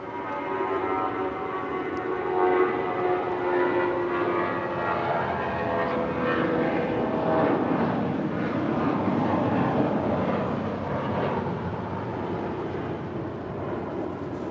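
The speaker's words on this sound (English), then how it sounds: "This departure is United Airlines Flight 1185, departing to Los Cabos on a 20-year-old A320." A 20-year-old United Airlines A320, Flight 1185 to Los Cabos, takes off at LAX with a steady, loud, broadband jet roar that holds for the whole stretch without a break.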